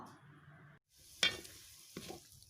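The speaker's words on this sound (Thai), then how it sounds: "อันนี้เราก็กวนไฟอ่อนนะคะ" A sugar mixture melts in a pan over low heat and is stirred slowly, with soft bubbling and a few sharp scrapes of the spoon against the pan after a short pause.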